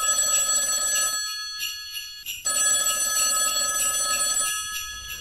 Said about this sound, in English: I'll ring my mate Will